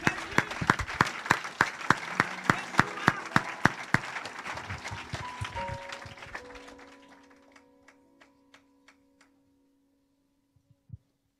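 Applause from a church congregation honoring the Lord, dense rhythmic clapping that thins out after about six seconds into a few scattered final claps and a brief thump.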